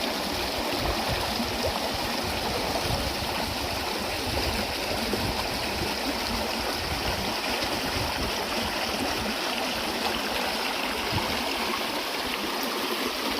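A small stream pours down a little waterfall, a steady broadband rush and gurgle, close and continuous, with no talk.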